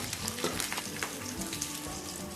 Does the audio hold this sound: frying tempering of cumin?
yes